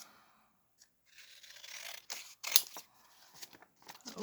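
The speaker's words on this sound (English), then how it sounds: "I'm just going to cut her out. I'm just going to cut that off." Scissors cutting out paper for a junk journal page: several short crisp snips and paper rustles in uneven bursts, close and fairly quiet, with one sharper clip near the middle.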